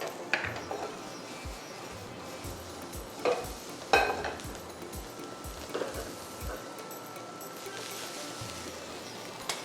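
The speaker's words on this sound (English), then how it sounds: "I am now gonna add some garlic to my pan" Garlic sautés in a pan for an eggplant roulade, a soft steady sizzle with scattered sharp clinks and scrapes of a utensil stirring against the pan, close by, with no talk.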